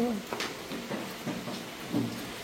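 Rain patters steadily in the background while voices talk intermittently over it, with a few soft knocks.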